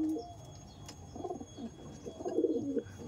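Pigeons coo steadily in a breeding loft holding green and red Madrasi and Kalanka birds, the low rolling calls rising and swelling toward the end, with no voices present.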